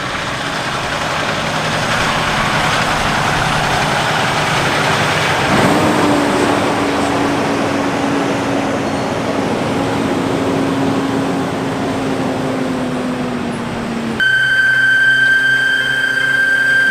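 A big rig truck pulls up for a delivery, with a heavy diesel engine rumbling and idling close by. Its pitch shifts as it rolls in, and it ends with a brief tonal whine.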